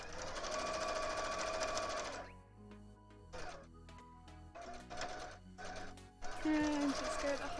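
Sewing machine top-stitching the hem of a Garbodor cosplay skirt: a loud, close mechanical whir in bursts separated by pauses, with a voice speaking over parts of it.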